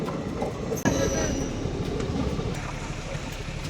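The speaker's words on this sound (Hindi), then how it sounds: "ट्रेन आ लग रही, फाटक हो रही यार" Train rolling through the Usmanpur railway level crossing, a steady close rumble of wagons with wheel squeal and a sharp clank near the start, continuing without a break.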